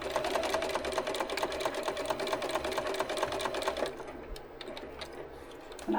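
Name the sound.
sewing machine stitching with a rattling bobbin case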